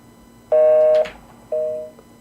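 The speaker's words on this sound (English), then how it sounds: "It just goes right to busy signal." A telephone line gives two steady electronic tones, each about half a second long, separated by a short gap, clear and isolated like a repeating busy signal.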